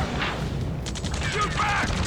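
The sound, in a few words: gunfire in video game Ace Combat 7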